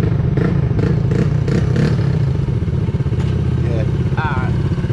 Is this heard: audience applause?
no